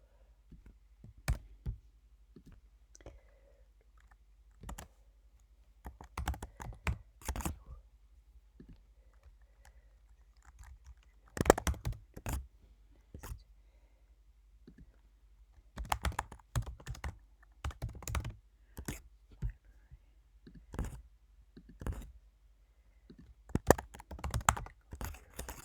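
Intermittent bursts of computer keyboard typing in a quiet room, short runs of crisp key clicks separated by pauses, faint and close, with no voices.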